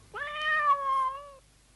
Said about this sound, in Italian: la bimba sentì nel vicolo un pietoso miagolio